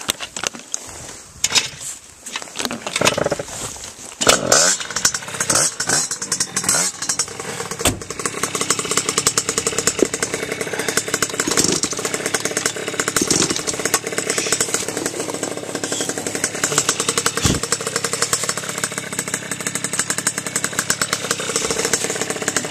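A motorcycle engine roars and revs steadily close by at a hill climb, loud and continuous, with a few sharp bursts near the start.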